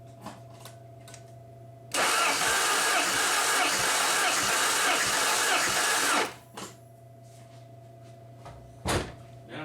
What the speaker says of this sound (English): now my key, we'll go crank it over a few times after I put power back on.